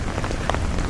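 Steady rain pours at night in Manila, a dense, even hiss of drops pattering on surfaces close by with scattered louder splashes, continuous throughout with no voices.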